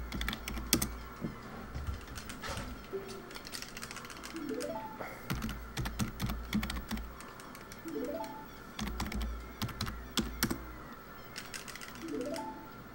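Rapid clacky keystrokes on a computer keyboard run in uneven bursts during a Zelda Ocarina of Time speedrun stream, close and steady, with faint game music and occasional chimes underneath.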